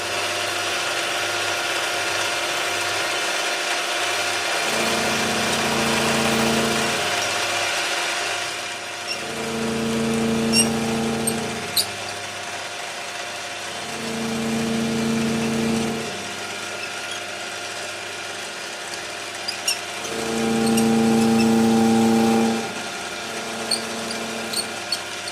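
A big cutter runs on a machine in a model engineering workshop, cutting a metal part in several separate passes, each a few seconds of whirring, with a quieter idle between them.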